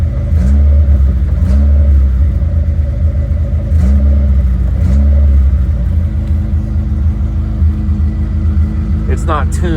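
A Suzuki Samurai engine, untuned, revs in a series of short blips over a steady loud idle rumble, each rise and fall repeating about once a second, with speech-like sounds mixed in.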